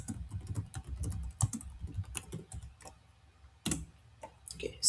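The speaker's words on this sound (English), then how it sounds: "I'll just open it and type something" Close, crisp clicks of someone typing on a computer keyboard, bursts of keystrokes with short pauses between, and no talking.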